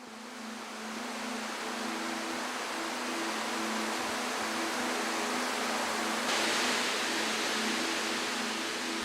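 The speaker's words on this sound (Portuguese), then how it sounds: "Nosso pesquisador está nas cataratas Shirai Tonotaki, um manancial bem conhecido nas encostas no Monte Fuji." Shirai Itonotaki waterfall on the slopes of Mount Fuji roars as a constant, dense rush of falling water, steady and moderately loud, with a faint low hum underneath and no voices.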